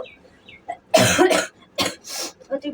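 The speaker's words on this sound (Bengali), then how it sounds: "আর আমার কাশি সকাল থেকে হয়ে যাচ্ছে, একবার শুরু হলে আর বন্ধ হওয়ার নাম নেয় না।" A person with a persistent cough lets out several harsh, close coughs in quick bursts, with short quiet gaps between them indoors.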